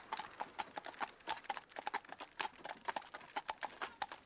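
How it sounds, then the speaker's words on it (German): Carriage horses in harness during driving practice, their hooves clip-clopping in a steady trotting rhythm of sharp, fairly close strikes with no talk over them. "Die Pferde gehen nach rechts."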